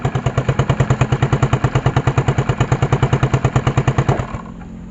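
A motorcycle engine with a charging fault, likely stator or regulator, idles in a fast, even, close-up putter, then cuts out abruptly near the end when the battery wire is pulled, leaving only faint hiss.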